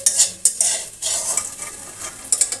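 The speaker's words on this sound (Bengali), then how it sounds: "জিরা গুঁড়ো করে নেবো, সেই জন্য একটু তেলে নিচ্ছি" Cumin seeds frying in a little oil in a pan, a close, steady crackling sizzle broken by scraping and clinking stirs against the pan, with no voices.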